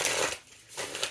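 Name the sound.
shuffling tarot cards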